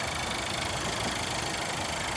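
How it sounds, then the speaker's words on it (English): An Audi A4 engine idling close by: a continuous, even rumble with a faint rhythmic vibration and no talk. "Okay, so that's the engine."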